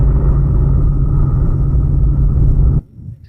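A 2025 Jeep Wrangler Rubicon 392 Final Edition driving on a highway: a loud, steady, deep engine rumble that holds constant and then cuts off sharply near the end, with no talk.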